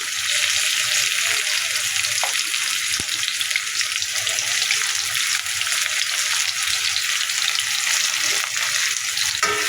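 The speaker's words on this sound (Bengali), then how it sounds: "তেল গরম হয়ে গেছে এবার পেঁয়াজ কুচি দিয়ে দেবো তেলের মধ্যে" Chopped onions fry in hot oil in a wok with a steady, close, even sizzle and hiss throughout, plus a couple of faint clicks.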